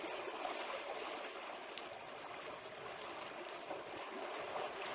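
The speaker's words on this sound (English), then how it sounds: "some elephants are trying to cross a river" Elephants crossing a river, heard as steady flowing water with soft splashes and sloshing, a continuous wet rushing at moderate distance with no voices.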